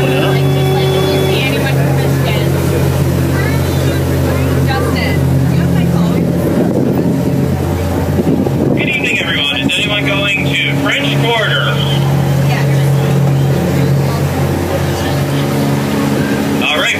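Boat engines drone on the Sassagoula River at Walt Disney World's Port Orleans Resort, with wind buffeting the microphone, while people talk over the steady motor hum.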